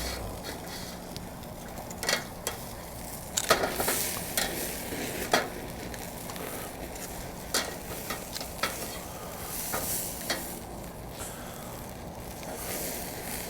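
Bone-in prime filets sizzle on a Slow 'N Sear travel kettle grill, a steady hiss broken by scattered sharp clicks and taps from handling the meat, with no talking.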